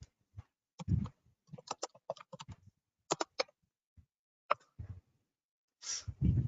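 Quick bursts of computer keyboard typing while entering git commands, irregular clusters of clicks and taps with short pauses between them, close and fairly quiet with no voices.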